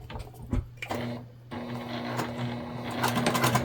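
A sewing machine basting webbing onto a sling bag runs in a steady close whir with faint ticking, briefly pausing before continuing, with no talking.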